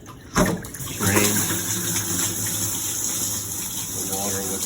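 Water with descaling and cleaning solution drains from a Hoshizaki KM-901 ice maker during cleaning, a sudden gush after a thump, then a steady, close splashing flow that continues under a speaking voice.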